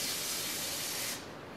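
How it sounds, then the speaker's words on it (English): Brake cleaner blasts from an aerosol can into a Ford Super Duty fuel tank part, a loud, steady close-up hiss that cuts off sharply after about a second, leaving quieter background noise. "after spraying a little brake clean in it"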